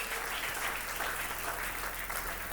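Loud, sustained applause from a church congregation fills the space, a dense steady wash of clapping with faint voices mixed in.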